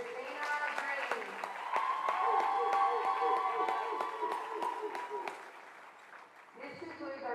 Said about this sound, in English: Everyone, please give a round of applause for senior Lady Ram basketball player,